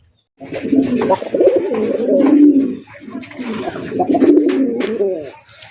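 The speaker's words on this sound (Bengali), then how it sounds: "পুরান জাতের গোল্লা কবুতর দেখেন কত সুন্দর ওই যে প্রথম জোড়াটা এখন পর্যন্ত ডাকতেছে" Old-breed Golla pigeons, local village birds, cooing close by in two long rolling phrases of throaty, rhythmic coos separated by a short pause.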